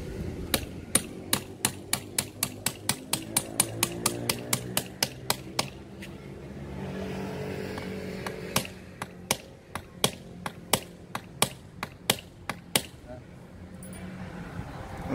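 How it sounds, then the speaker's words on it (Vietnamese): A big hammer pounds during construction work, striking in fast, regular runs of loud, close, sharp blows with a short break midway, while people talk underneath. "Lấy cái búa to cho nó đầm."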